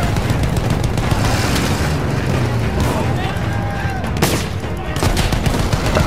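Machine gun fire in Battlefield 1, a steady rattling burst that runs throughout, loud and continuous, with a heavier blast near the end and voices underneath.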